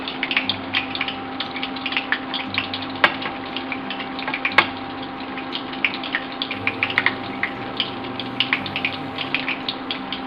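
Bread slices frying in medium-hot oil for fatias douradas, giving a steady close sizzle with scattered crackles and pops that continue evenly throughout, with no talking.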